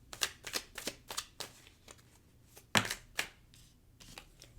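Tarot cards are shuffled and cut by hand, a rapid series of crisp riffling slaps and flicks close up, in uneven bursts of around a dozen quick strokes.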